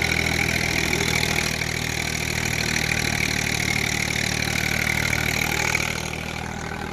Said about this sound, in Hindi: ट्रैक्टर के जरिए ट्रैक्टर चलता है इसमें